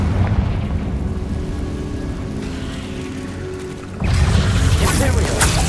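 A Confringo spell explosion in the Hogwarts Legacy video game: a steady rumbling bed that breaks into a sudden, louder booming burst about two-thirds of the way through, then keeps roaring to the end.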